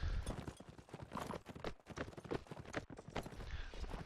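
Horse hooves gallop in fast, irregular clip-clop beats in a multiplayer video game match, loud and close, overlapping with other game noise.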